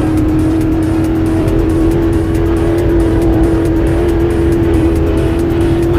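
A race car engine in the Midnight Racing Tokyo video game roars at high speed, a loud, steady, continuous drone with a strong tonal whine and no break or pause.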